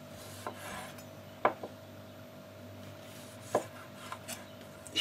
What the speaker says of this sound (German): Tomaten vierteln.